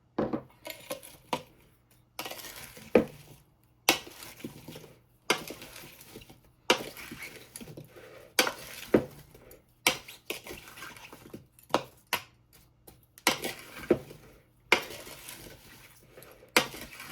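Repeated clinks and scrapes of a utensil stirring a sliced Granny Smith and Gala apple dessert mixture in a pot, rhythmic metallic knocks every second or so, close and fairly loud with no talk.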